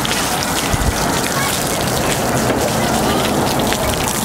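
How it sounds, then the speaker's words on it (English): Garden hose sprays water steadily over a car as it is rinsed, a dense, continuous hiss and patter close by that stays even throughout with no breaks. "Turn this hose back on."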